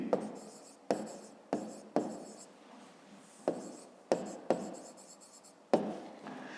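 Pen or pencil strokes scratching across paper during a 5th-grade math lesson, a steady run of short rhythmic writing bursts close up and alone.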